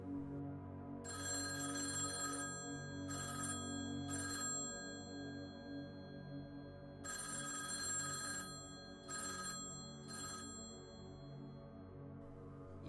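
A telephone bell rings at midnight in a home in repeated bursts, two short rings then a pause, the pattern repeating twice, moderately loud against a quiet background with no talking.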